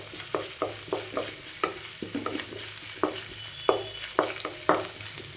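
Onion and chilli fry in a pan with ginger garlic paste, sizzling steadily under a rhythmic series of close, sharp spoon scrapes and stirs.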